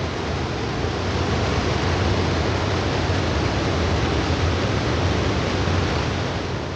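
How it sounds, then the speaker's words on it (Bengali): Loud river water rushes past fishing nets in Keonjhar, a dense, unbroken roar of flowing water that stays close and even from start to finish. "বিভৎস জলের আওয়াজ।"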